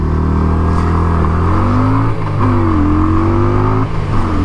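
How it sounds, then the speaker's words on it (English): Motorcycle engine held loud and close with steady harmonic drone, pitch stepping down and briefly rising as the throttle is blipped while slowing to a stop, no talking. "I'll blip the throttle"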